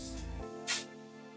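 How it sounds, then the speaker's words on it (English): A short, close hiss of hairspray is sprayed onto back-combed long hair, a single brief burst over a faint steady background hum. "giving it a little spray"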